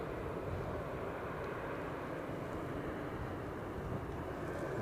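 At Edinburgh Airport an airplane touches down on the runway, heard as a broad, even roar of engines and rushing air that stays constant throughout, fairly quiet and with no one talking.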